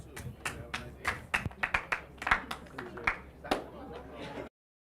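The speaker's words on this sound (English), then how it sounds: "That's a lot of clapping." Audience clapping during a virtual scholarship seminar: scattered, irregular handclaps, close and crisp, in uneven bursts for about four and a half seconds before cutting off abruptly to silence.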